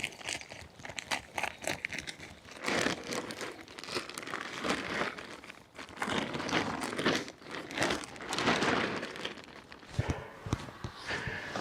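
An old plastic grow bag of used compost being cut open in a garden, producing continuous close crinkling and crunching of plastic with rustling movement throughout, and no talk.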